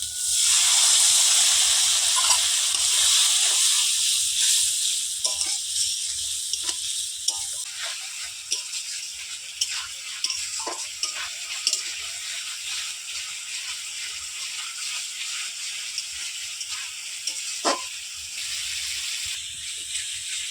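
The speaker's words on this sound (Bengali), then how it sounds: "অল্প একটু জল দিয়ে মশলাটা ভালোভাবে কষিয়ে নেবো" Spice paste masala for a fish curry with cauliflower frying with a little water, a loud close hiss that settles into a softer crackling sizzle with scattered stirring clicks, no talk.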